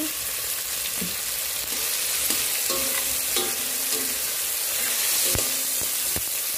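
Tomatoes sautéing in a pan for sinigang na lechon kawali, a steady close sizzle with scattered soft knocks and scrapes of a spatula stirring, no talking.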